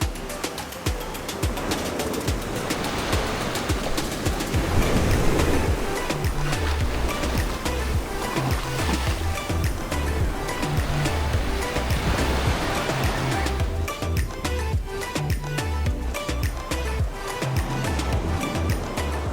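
Surf washes steadily onto Arashi Beach in Aruba, a continuous loud roar of breaking waves that stays dense and unbroken, with no voices over it.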